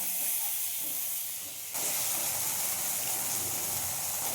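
Chopped tomatoes tipped into a pan of frying onions, with a loud steady hiss that dips briefly, then surges back fuller and keeps sizzling without any talk.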